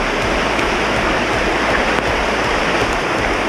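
Waterfall and stream rushing along a rain-soaked hiking trail to Waerebo in Flores, a dense, continuous, fairly close roar of flowing water with no voices.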